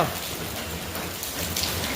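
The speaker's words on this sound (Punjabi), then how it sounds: "ਬਾਈ ਗੜੇ ਆ ਗਏ ਸੰਗਰੂਰ ਚ ਗੜੇ ਪਈ ਜਾਂਦੇ ਨੇ" Hail falling in Sangrur onto a floor that turns white, heard as a dense, steady pattering roar of many small impacts, loud and continuous throughout.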